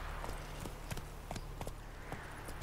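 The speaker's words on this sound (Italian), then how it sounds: "Dai su, galoppa." Horse hooves gallop in The Witcher 3, a steady repeating clip-clop rhythm of hoofbeats on a road, moderately close and fairly faint under soft game ambience.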